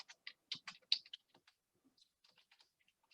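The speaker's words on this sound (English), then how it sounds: "I'm going to come down here and I'm going to type in," Light, irregular keystrokes on a computer keyboard while entering data into an Excel spreadsheet, close and quiet, with brief pauses between bursts.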